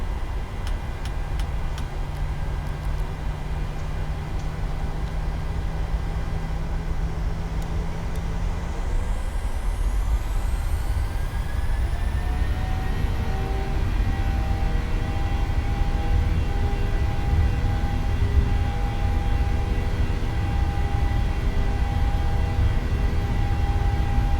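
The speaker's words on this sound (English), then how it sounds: "we are aligned with the runway, so takeoff." Simulated Boeing 737-800 of LOT Polish Airlines starting its takeoff roll at Tenerife Sur in Microsoft Flight Simulator, jet engines spooling up with a rising whine into a steady loud roar and rumble.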